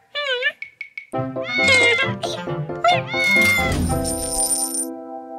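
A cartoon cat piggy bank meows in high, bending cries, followed by a musical jingle and a clinking coin drop, with bright chiming tones ringing out at the end.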